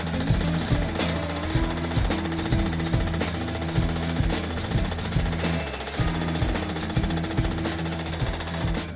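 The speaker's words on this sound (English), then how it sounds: "what we do here is adjust these hammers to hammer it in this fashion" Power hammers at a cymbal factory pound a cymbal in a fast, steady mechanical rhythm, loud and close, with dense metallic clatter throughout and no talk.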